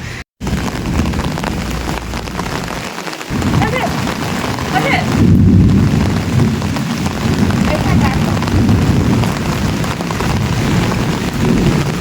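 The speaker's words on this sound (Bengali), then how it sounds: "বৃষ্টি শুরু হচ্ছে বৃষ্টি" Rain starting to fall outdoors beside a road jammed with traffic after a procession, a steady dense hiss of falling drops mixed with broad street rumble lasting about twelve seconds.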